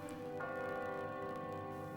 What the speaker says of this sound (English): when he looked out at this church bell and could barely sense it ringing